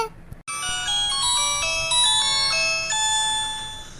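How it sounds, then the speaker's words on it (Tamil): A phone ringtone plays a bright, repeating electronic melody of stepped tones, starting abruptly after a short gap and ringing loudly and continuously to the end. "இது யாரு இப்ப போன் அடிக்கிறது"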